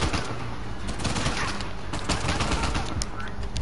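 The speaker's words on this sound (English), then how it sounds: "They're shooting at us." Enemies fire at the player in the action video game Uncharted 4, a dense, continuous burst of gunfire at steady loudness for a few seconds.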